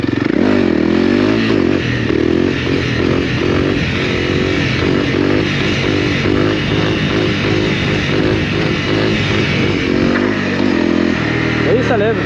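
2022 Honda CRF300L trail motorcycle on trail tyres, its engine revving loud and close as the rider lifts the front in second and shifts to third mid-wheelie, with a voice talking over the roar.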